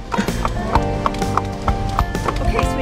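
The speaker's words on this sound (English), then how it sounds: "So this is how the guests bring the horses in." Several horses being led in at a Virginia country inn and stable clip-clop steadily on hard ground, with regular hoof strikes spread across the stretch and an occasional whinny, while people talk nearby.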